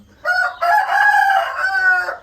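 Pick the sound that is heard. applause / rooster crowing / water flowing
rooster crowing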